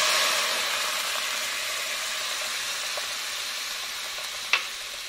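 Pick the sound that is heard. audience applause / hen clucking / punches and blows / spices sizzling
spices sizzling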